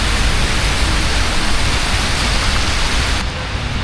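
Heavy rain falling in New York makes a loud, dense wash of steady hiss close to the microphone, which eases slightly near the end, with no voices.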